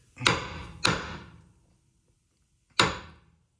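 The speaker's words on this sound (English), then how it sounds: "I use my mini sledge, and I hit it" A mini sledgehammer strikes the front lower ball joint on a 2012 Silverado-family truck three times, two quick sharp metallic blows close together, then a pause before a third, each ringing briefly.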